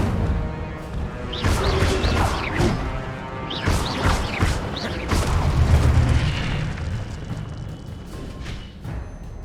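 Incendio fire spell cast in the video game Hogwarts Legacy: loud, dense roaring and booming blasts with repeated crackling, whooshing bursts over a continuous rumbling low end, sustained across the whole stretch without speech.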